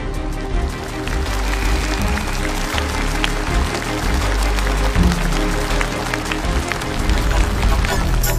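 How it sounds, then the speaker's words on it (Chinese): Studio audience applause on a Chinese televised brain-challenge show, a sustained loud wash of clapping with crowd noise and music underneath, running steadily for several seconds. "掌声有请。"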